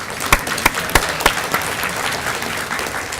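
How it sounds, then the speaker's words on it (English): Applause from an audience, a run of sharp claps standing out at first, then settling into a steady patter of clapping. "So a round of applause for those volunteers."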